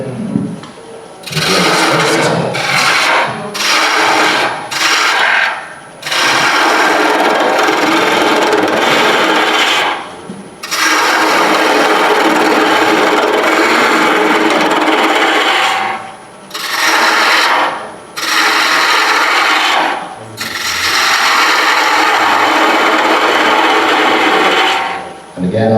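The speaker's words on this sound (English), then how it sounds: "I'm going to use my skew. I'm going to make it a bit deeper." Skew chisel cutting wood on a lathe at a woodturners' demonstration, a raspy scraping hiss in repeated passes broken by short pauses, loud and near.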